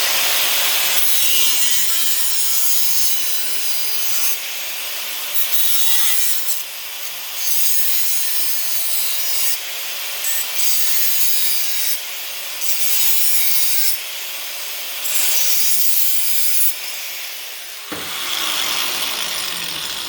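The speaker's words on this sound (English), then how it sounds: "cutting a round circle with a grinder" A small-wheel angle grinder cuts a round circle out of rusty metal, a steady high-pitched rasping grind that swells and dips in repeated passes for about eighteen seconds, then drops to a lower whir as the wheel spins down.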